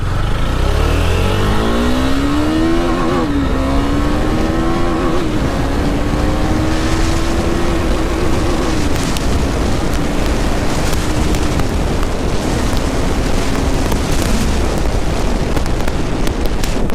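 A KTM Duke 390 BS6 single-cylinder motorcycle engine revs up steadily through the gears, its pitch climbing and holding high as it pulls hard, loud and close throughout with no talking.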